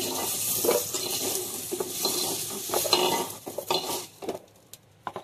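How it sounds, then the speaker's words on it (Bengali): Potato pieces frying in oil in a pan, a dense close sizzle with scraping and clinking of a utensil stirring and lifting them, the frying fading as pieces come out. "আলুগুলো লাল লাল ভেজে নিচ্ছি, তুলে নিচ্ছি"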